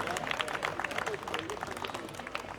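Audience clapping at an outdoor county bread festival in a city park beneath palace ruins, steady dense applause throughout with a bit of crowd murmur underneath.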